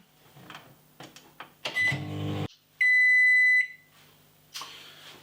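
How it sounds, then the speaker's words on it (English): A microwave oven running on high, heating curds for homemade mozzarella, with handling clatter and a loud door or latch clunk, then a sustained electronic beep tone partway through and a faint hum before and after. "So, microwave on high,"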